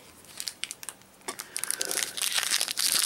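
A Pokemon TCG Furious Fists booster pack being torn open: close crinkling foil with scattered crackles that build into a denser, louder ripping near the end.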